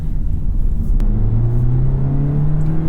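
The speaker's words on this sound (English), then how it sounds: "That was a full 0 to 60 pull, although I was going uphill a little bit." Steady engine drone from a 2021 Hyundai Elantra Hybrid with a 1.6-liter engine in sport mode, its pitch climbing smoothly and continuously during a full 0 to 60 run up a slight incline onto a freeway, heard loud from inside the cabin.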